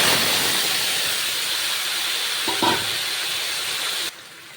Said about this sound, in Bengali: তেলটা গরম হয়ে গেছে এবার মাছগুলো এতে ছেড়ে দেবো